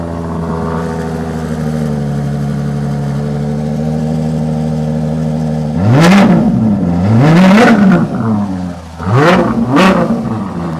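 A supercar engine idles steadily, then revs hard in several sharp bursts, the last two quick and close together, loud and near.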